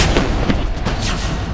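A howitzer artillery gun fires in a loud, booming burst that rolls on briefly, heavy and close, with no voices.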